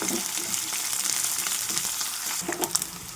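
Onion and cauliflower pieces fry in hot oil with a steady, close sizzle, and a few stirring scrapes and clicks come in toward the end; no one speaks.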